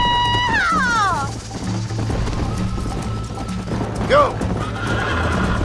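A horse in the Red Dead Redemption video game gallops with steady clip-clop hoofbeats and neighs loudly at the start and again near the end, under game music and a short spoken word.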